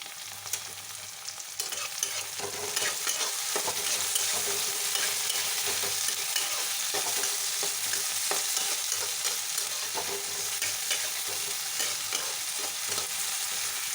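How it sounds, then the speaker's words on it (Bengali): Tomato and spices fry lightly in a pan for a prawn malai curry, giving a steady broadband sizzle with frequent scraping stirs throughout and no voices. "এগুলোকে আমি হালকা করে ভেজে নেব"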